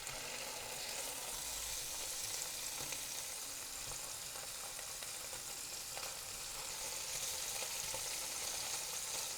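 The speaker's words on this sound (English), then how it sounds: "I'm going to quickly color them in hot oil." Steady, bright sizzling of paneer frying in hot oil in a large pan, continuous and close, with occasional soft crackles and no voices.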